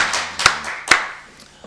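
Church congregation at a Korean midweek worship service claps in praise, a few sharp distinct claps standing out over a soft background of scattered hands, short and fading quickly.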